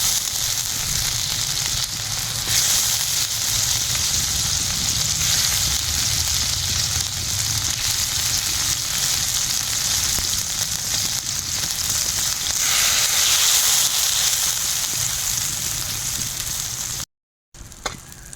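Hilsa fish slide into a pan of boiling water and oil with taro, giving a steady loud sizzle and bubbling hiss that runs unbroken for many seconds, then cuts off briefly near the end.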